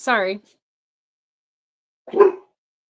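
Indoors, a pet dog gives two short, sharp barks, the first high and yelping and the second lower and gruffer, separated by about two seconds of silence and heard fairly close.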